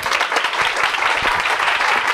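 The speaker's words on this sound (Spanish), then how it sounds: "un aplauso para Fernando" Audience applause before a talk defending animal experimentation, a dense steady wash of many hands clapping close and loud for the whole stretch, with no voices over it.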